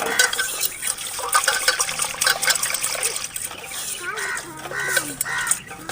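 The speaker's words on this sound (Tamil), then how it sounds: "தண்ணி ஊற்றி ஒரு அலாசி எடுத்து போட்டுக்கலாம்" Vermicelli broken into pieces and rinsed in a bowl of water in a home kitchen, with continuous swishing and trickling, light splashes and faint bird calls in the background.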